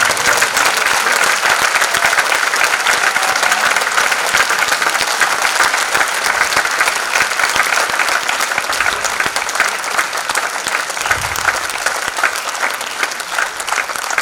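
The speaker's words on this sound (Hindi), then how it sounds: "जोरदार तालियों के साथ स्वागत करिए डॉक्टर प्रभास श्रीवास्तव का।" Audience applause at a Ghalib ghazal and Kathak performance in Lucknow: dense, sustained clapping from a large crowd, steady and loud throughout with no talk over it.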